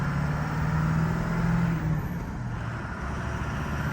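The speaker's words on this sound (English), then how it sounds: "This blue 6-liter that I'm driving" A blue 6-liter manual pickup truck engine drones steadily from inside the cab, a continuous low rumble with road noise and slight shifts in pitch as it drives.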